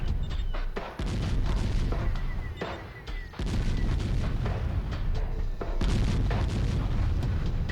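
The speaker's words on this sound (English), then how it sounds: "So let's introduce more cannons." Cannons fire repeatedly in the retro real-time strategy game Warzone 2100, with dense, loud booms and blasts overlapping in a continuous barrage.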